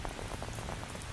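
Chilly rain falls in a dense, constant hiss of drops on a surface, with no talking over it.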